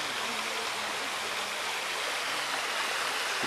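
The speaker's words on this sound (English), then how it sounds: "You can hear the water running through this small waterfall." Water runs steadily through a small garden waterfall at a botanical garden in Victoria, BC, a continuous close splashing rush with no talk.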